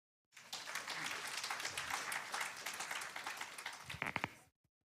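An audience at an anti-corruption citizens' event claps steadily for about four seconds, a dense patter of many hands that swells slightly and then stops abruptly.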